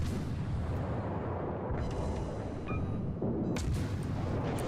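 Destroyer guns firing in the naval video game World of Warships, heard as a dense, continuous low rumble of distant gunfire and explosions, with a few sharper bangs standing out near the end.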